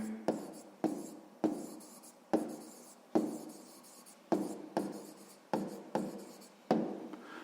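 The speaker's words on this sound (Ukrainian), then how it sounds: "Є, записуємо тоді відповідь." A pen writes out an answer on paper in a series of about a dozen short, regular scratching strokes, close and quiet, with no talking.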